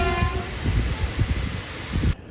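A train passes at Panagarh railway station, a loud, close rumble of wheels and carriages with rhythmic clatter over the rails, cutting off abruptly near the end.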